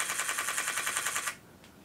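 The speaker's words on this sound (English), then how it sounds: "I've got the camera on sequential mode, so it's basically just gonna fire off a bunch of shots" A camera shutter fires a rapid burst in sequential mode, about sixteen crisp, evenly spaced clicks in quick succession, close and clear, ending abruptly with one faint click after.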